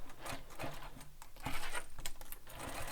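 A sewing machine stitching a sling pack sounds close and fairly quiet, with irregular rapid mechanical ticking and thumps as the fabric feeds through, and no voices.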